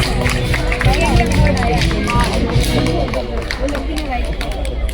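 Applause from a crowd at a school sports day prize announcement, a dense steady patter of many hands clapping together with background chatter, moderately close and sustained throughout.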